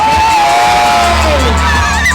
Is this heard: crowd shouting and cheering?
yes